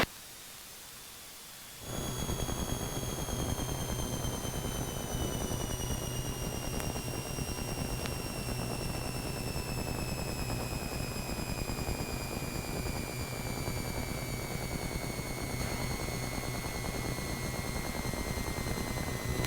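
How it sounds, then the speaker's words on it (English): Aircraft engines at idle throttle on approach into Ogden, Utah, heard from inside the cabin as a steady, broad roar with faint high whining tones that slowly slide downward, continuous and unbroken throughout. "throttles are coming idle"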